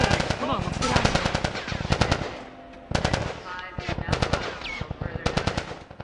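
Rapid automatic gunfire in The Last of Us Part 1, dense bursts of rounds crackling loud and close through the whole stretch with brief gaps, mixed with chaotic combat noise.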